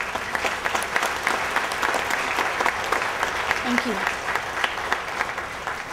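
Steady, dense audience applause fills a school promotion ceremony, continuous and fairly loud throughout, with a brief spoken thanks heard over the clapping.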